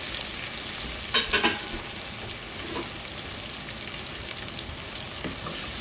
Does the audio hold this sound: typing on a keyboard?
no